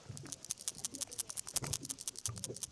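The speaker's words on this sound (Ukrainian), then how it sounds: "Подивіться ось на приманочку. В неї є шумова капсула" Rapid, irregular rattling of small beads inside a fishing lure's plastic noise capsule, shaken in bursts close by, fairly faint with no talking.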